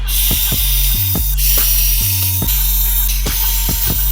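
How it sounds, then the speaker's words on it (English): Screws being backed out of the front end of a Yokomo MD 1.0 RC drift car with a power driver, repeated short whirring bursts with clicking, close and loud, no talking. "We can now take out 1, 2, 3, and 4 screws"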